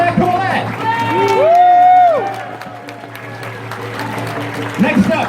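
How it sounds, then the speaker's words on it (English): Crowd applause and cheering at a charity auction during a pony fan convention cider festival, a steady clatter of clapping with whoops, under a loud sliding whistle-like tone and voices. "how about a huge round of applause"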